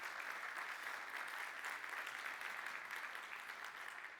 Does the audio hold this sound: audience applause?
yes